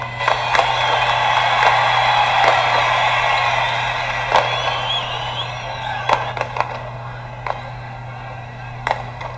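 Chinese firecrackers go off in scattered sharp cracks and pops at irregular intervals, some near, some distant, over a constant low hum and background din.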